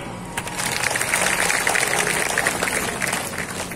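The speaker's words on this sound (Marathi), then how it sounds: "टाळी" An audience clapping at a Bhagavat Katha sermon, a steady burst of applause from a crowd lasting a few seconds, fairly close and even.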